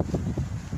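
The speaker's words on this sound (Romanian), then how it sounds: "nu știu cum se aude pe filmul, dar bate un vânt" Wind buffets the microphone in short gusts, a close, low rumbling roar that swells and fades several times over a moment, with no voices.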